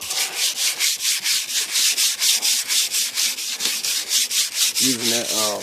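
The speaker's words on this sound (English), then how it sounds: "sanding down my 1988 Cadillac DeVille" Sandpaper is worked by hand over the painted body of a 1988 Cadillac DeVille in steady, rhythmic back-and-forth strokes, loud and close. A brief tonal squeak near the end sits over the scraping.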